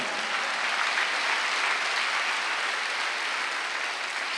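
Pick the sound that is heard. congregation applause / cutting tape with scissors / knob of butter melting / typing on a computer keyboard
congregation applause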